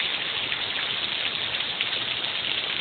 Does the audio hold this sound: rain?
yes